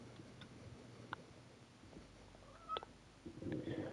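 A cat in a quiet room lets out a few short, soft meows spaced a second or so apart, with a slightly louder burst of sound near the end.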